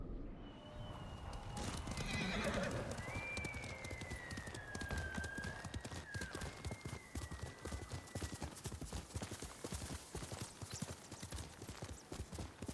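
In Ghost of Tsushima, a horse whinnies loudly near the start while hooves clip-clop in a steady rhythm throughout, mixed with footsteps.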